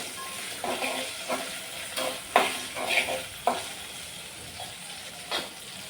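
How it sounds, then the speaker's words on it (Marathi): Green chillies with salt being sautéed in hot oil, a soft sizzle under intermittent stirring scrapes of a spatula in the pan, close and moderately quiet. "थोडंसं मी मीठ घालून घेते आणि आता आपण परतून घेऊया."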